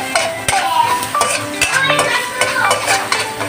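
Garlic and onions sautéing with salt in a pan, a close sizzle broken by sharp scrapes and clinks of a utensil stirring against the metal, all within a few busy seconds.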